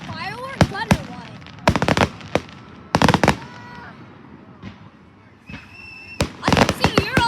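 Fireworks bursting in repeated loud cracks and pops, some in tight clusters, with whistling rising tones between blasts and people talking nearby.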